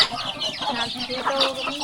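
Chickens clucking, a mother hen with her brood of about ten chicks in a small mountain village of the Blu people, a steady close chatter of clucks and cheeps with no talk.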